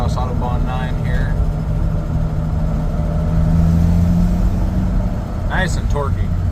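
A 1996 Chevy S10 pickup's engine hums steadily and builds in revs while driving down the road, a close, continuous drone with people talking over it at the start and end.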